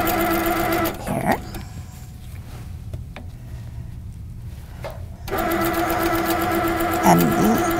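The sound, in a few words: sit-down quilting machine stitching with ruler foot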